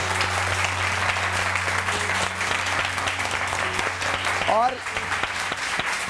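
A TV studio audience on a morning show applauds, steady and fairly loud, under a low hum, with brief talk and a short sweep of another sound near the end.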